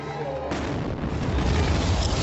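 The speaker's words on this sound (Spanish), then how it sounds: "Ha habido 2 explosiones cerca de la línea de meta hace unos instantes." A bomb explosion near the Boston Marathon finish line bursts out loudly and rolls into a sustained, heavy rumbling roar that fills the space.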